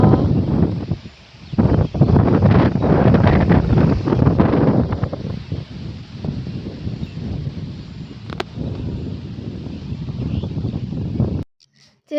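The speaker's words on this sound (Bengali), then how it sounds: "কত হাওয়া।" Strong wind gusts across open farmland beside a banana plantation under a clouding sky, a loud continuous rushing roar buffeting the microphone for most of the clip before cutting out abruptly near the end.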